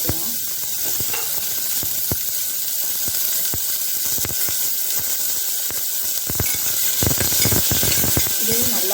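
Chopped tomato, green chili and curry leaves sizzling in hot oil in a pan: a steady, loud frying hiss with scattered sharp crackles and pops, plus occasional stirring clatter throughout.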